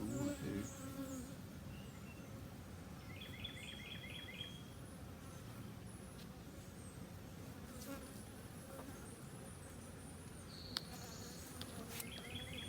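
Honey bees buzz steadily around the comb of a hive in a rainy season, a continuous close droning hum with occasional brief chirps of birds in the background and no speech.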